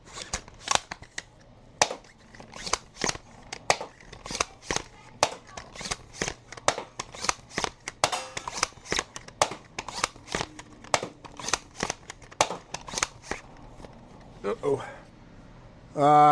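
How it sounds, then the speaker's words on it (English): A bolt-action 3D printed Pike dart blaster fires a long run of sharp, evenly spaced shots, each a crisp snap with the bolt cycling between, ending with a louder clatter as a folded X-Shot dart jams. "we're going to take 18 shots with this bolt action 3D printed Pike and see how it performs"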